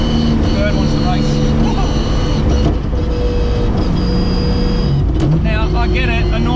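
The engine of a twin-turbo tuner car, either a Lamborghini or a Nissan GT-R, runs loudly and close with a rough, steady idle and occasional revs, with people talking over it.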